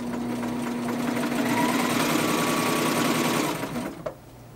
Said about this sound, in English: So if you turn it all the way clockwise, then the motor is at its fastest speed, and you have variable control with the pedal.